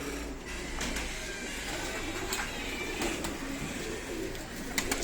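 Racing pigeons coo in a loft, a soft continuous murmur of low throaty calls over a steady background hum, with a few faint clicks and no clear talk.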